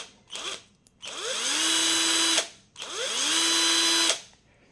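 A cordless drill powered from a 12 volt bench supply whirs up in two separate runs, each spinning up to a steady high pitch for over a second before cutting off, close and loud with no talk.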